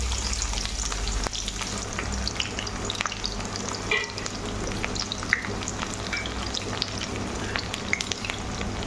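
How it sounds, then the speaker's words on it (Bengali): Sliced onions and bay leaves frying in hot oil for biryani, a dense continuous crackling sizzle with occasional louder pops, steady and close for the whole stretch, with no talking. "দেখো তেলটা গরম হয়ে গেছে আর এখানে কেটে রাখা পেঁয়াজ আর তেজপাতা দিয়ে দিই।"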